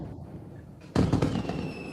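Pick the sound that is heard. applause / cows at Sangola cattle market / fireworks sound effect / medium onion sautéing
fireworks sound effect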